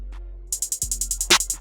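A hi-hat pattern ticks steadily in a glo-style trap beat programmed in FL Studio, with a single snare crack landing partway through; the sounds are close and dry with no talking.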